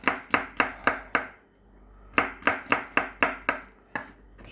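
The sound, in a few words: garlic being roughly chopped with a knife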